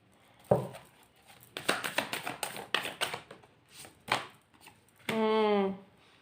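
Tarot cards are shuffled and drawn with quick, close clusters of crisp riffling taps and slaps in uneven bursts, ending with a short voiced sound.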